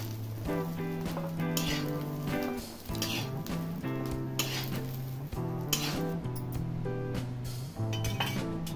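Green chillies roasting in a pan for Kolhapuri kharda: a continuous close sizzle runs throughout, and metal clinks and scraping stir sounds repeat over it, with no talking.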